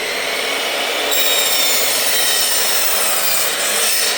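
A saw cuts through wood in a warehouse workshop, a loud, continuous rasping buzz running unbroken close by.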